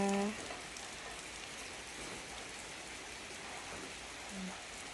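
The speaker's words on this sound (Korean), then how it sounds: "빗방울 떨어지는 낙선물 소리도 들리고" Spring rain falling over a countryside home, raindrops dripping from the eaves onto potted plants, a soft even patter heard from close by, with a faint voice briefly in the background.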